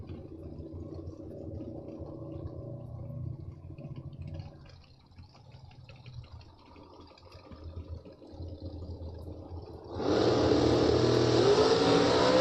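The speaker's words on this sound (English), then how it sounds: "Separation, top end of the racetrack as McGowan got out of the throttle" A bracket drag racing car roars down the strip with a sustained engine note that eases off, followed by a sudden loud surge of engine noise from a closer car near the end.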